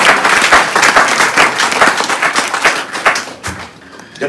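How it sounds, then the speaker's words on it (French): Loud applause from a church congregation, close and uneven clapping with rhythmic bursts that thin out toward the end. "Applaudissez Jésus."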